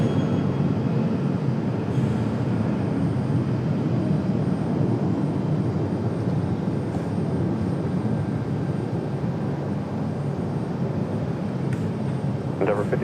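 Airliner on approach and landing at Raleigh-Durham's runway 23 left, a steady broad roar of jet engines sustained throughout at moderate distance, with no talk over it.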